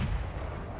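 Explosion from an FPV drone strike on an armored personnel carrier, a dense low rumbling blast filling the whole short moment with heavy booming energy.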